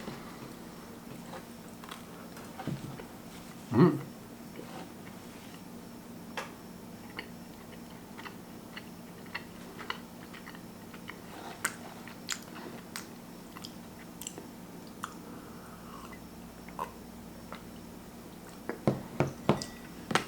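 Someone bites into and chews a soft brownie topped with crunchy pretzel pieces, producing scattered quiet crunches and mouth clicks, one sharper bite near the start and a cluster of crisp crackles at the end, over a low steady hum.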